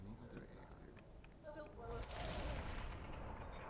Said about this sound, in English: we should be getting that explosion pretty soon